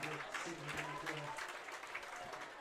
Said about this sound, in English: As Ace's teammates get off their knee and clap for him